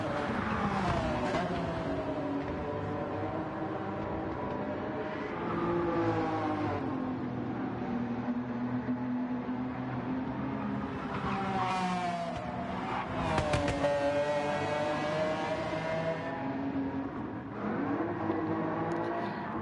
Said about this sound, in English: Luke clearly happy with the P2, doing donuts at the exit of turn 1.